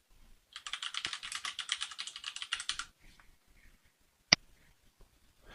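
Rapid, steady typing on a computer keyboard runs for about two seconds, close and clear, then stops, followed by a single sharp click a moment later.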